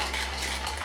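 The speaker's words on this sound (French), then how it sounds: "Je vais venir mélanger le tout." Body scrub ingredients being mixed by hand in a mortar, a soft continuous grainy stirring and scraping under steady low background hum, no voices.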